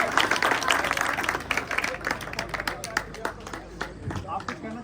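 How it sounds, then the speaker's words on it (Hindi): Audience at an honour ceremony for newly selected police recruits at a library claps in loud, uneven bursts, with crowd chatter and voices mixed in among the applause. "तालियां बजाते रहे करो, तालियों की आवाज निकलनी चाहिए।"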